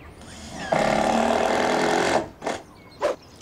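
A power tool drives fasteners through decking boards into the joists of an outdoor timber deck, one sustained loud whirring run of about a second and a half followed by two short bursts.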